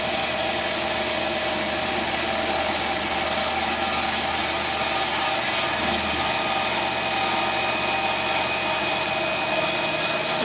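A metal cutter machines a part for a BSA Fury motorcycle, producing a loud, steady whirring drone with a high-pitched cutting tone, close and continuous with no talk.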